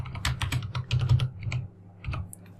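Rapid, close keystrokes on a computer keyboard while code is entered in GameMaker Studio, in quick bursts with a brief pause, heard alone.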